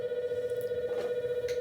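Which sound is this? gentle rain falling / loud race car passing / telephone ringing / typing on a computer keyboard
telephone ringing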